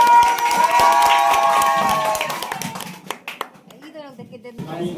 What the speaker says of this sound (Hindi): ताली के साथ इसका स्वागत कीजिए